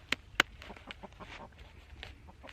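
Chickens make a few short clucks and squawks at close range during coop chores, with two sharp calls near the start followed by softer scattered clucking and rustling.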